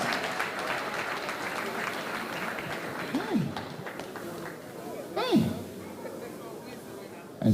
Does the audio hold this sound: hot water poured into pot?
no